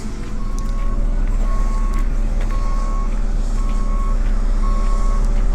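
Construction machinery reversing alarm beeping in a steady, evenly spaced series of tones over a constant outdoor diesel rumble, moderately distant, with no talk.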